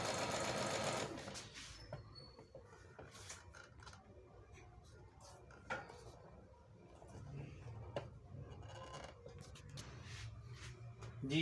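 A Singer Mariee 5001 sewing machine stitches a picot hem on fabric with a steady, quiet mechanical whir. A louder burst opens it, followed by soft clicks and handling noises.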